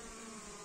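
Swarm bees clustering at a cardboard trap box in a forest, their hum a steady, close drone that fills the whole short moment with no voices.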